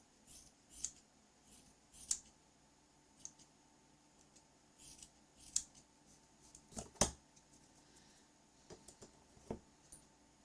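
Scissors trimming material on a piece of cardboard, a scattered series of soft snips and clicks, quiet and close, with pauses between cuts.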